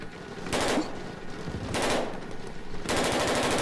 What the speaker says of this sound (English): Several rifle shots echoed from their left.